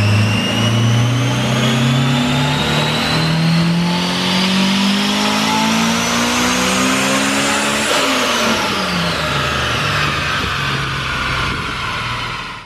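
A supercharged Chevrolet Corvette C8 engine revs hard and loud up close, its whine and roar climbing steadily in pitch before dropping back partway and holding.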